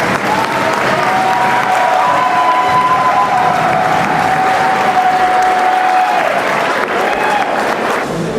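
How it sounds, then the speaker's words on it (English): Steady, dense applause from a large crowd at a homecoming ceremony, loud and continuous throughout, with a faint tone running underneath. "Let's give another round of applause for the work that you've done."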